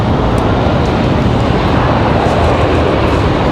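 A Delta A320-200 airliner takes off from Raleigh-Durham airport, its engines giving a loud, steady roar that fills the whole stretch without a break.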